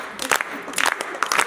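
An audience at a birthday jagran claps in scattered, uneven bursts under a voice, the claps sharp but fairly light.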